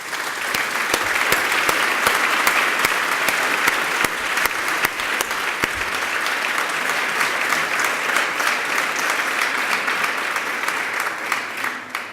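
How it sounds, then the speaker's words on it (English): Applause from an audience honoring a choir at a gold medal award ceremony, a sustained crowd of clapping with sharp individual claps standing out against the steady roar, continuing evenly for several seconds. "We should really give them a round of applause also."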